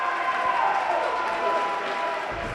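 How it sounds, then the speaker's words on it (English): A high school hockey crowd cheers during a Panthers power play against Plum, a steady, dense roar of voices and clapping that holds at an even level without a break from start to finish. "A little bit of energy from the crowd."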